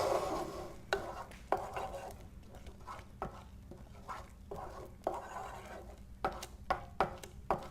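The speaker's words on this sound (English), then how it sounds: "we're going to give our millet a stir and see how it's doing" Millet cooking in a pot is stirred with a utensil, giving a series of close, irregular scraping strokes and soft knocks over a faint bubbling simmer.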